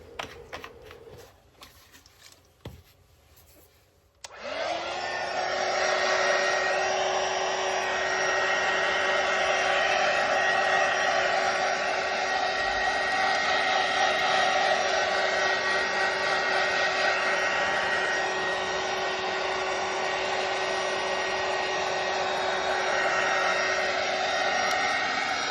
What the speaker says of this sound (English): The next step after this, after I'd placed this on, was to dry it with my heat tool.